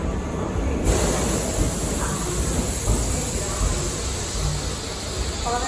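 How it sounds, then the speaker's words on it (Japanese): A Tobu limited express Kirifuri train pulls into Asakusa station, a loud, steady rumbling roar with hiss along the platform, while a station announcement plays over it. "4番線には10時38分発特急きりふり281号東武日光行きが参ります。"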